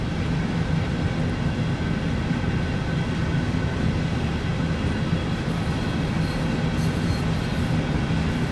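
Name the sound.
locomotive running in the video game Train Sim World 2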